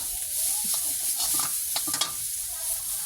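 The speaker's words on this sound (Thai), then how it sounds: "ผัดพริกแกงของเราจนมีกลิ่นหอมครับ ให้เพื่อนๆผัดไปประมาณ 2-3 นาทีครับ" Thai curry paste stir-fried in a pan, giving a steady soft sizzle with a few scraping stirs of a utensil and no talk.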